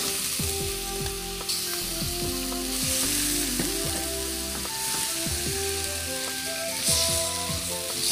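Chicken pieces frying in cooked spice paste for a spicy sour yellow chicken soup, a loud continuous sizzle with crackling and stirring scrapes throughout, close up and without talk.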